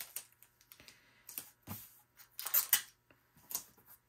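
Adhesive tape is pressed and smoothed onto a paper garment pattern at the shoulder, giving close, sharp crackles and rips in uneven bursts separated by quiet gaps.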